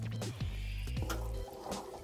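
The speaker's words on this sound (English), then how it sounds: "until it bubbles just like it is now." A caramel mixture for copycat Cracker Jacks bubbles in a pot with soft, close wet pops and drips over a low steady bed, no voices.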